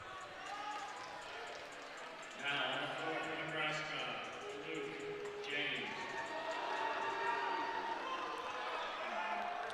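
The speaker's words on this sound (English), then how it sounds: "Hear the chants of Luke emanating from this Nebraska crowd" A Nebraska crowd at a college gymnastics meet against Illinois chants a gymnast's name, Luke, in a steady, rhythmic group chorus that rises and holds, with a commentator talking over it.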